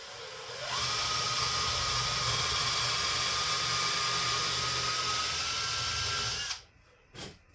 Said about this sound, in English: and I'm going to drill it.